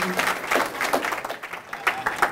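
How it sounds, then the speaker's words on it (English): An audience applauds scholarship winners at a police association luncheon, steady, dense clapping from a room full of people, fairly close and sustained throughout. "Let's give another round of applause to our winners"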